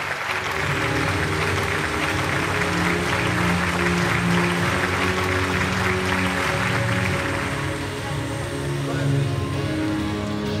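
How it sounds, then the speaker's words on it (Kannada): A crowd claps steadily at a Kannada film gathering for a new actress, a thick continuous burst of applause lasting the whole stretch with music and faint voices underneath. "ಬನ್ನಿ ಜೋರ ಚಪ್ಪಾಳೆ"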